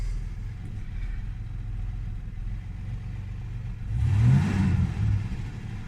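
A 1979 Mustang Ghia with a Walker Dynamax muffler and exhaust revs up, a low steady idle rising into a brief louder surge of engine roar before settling back.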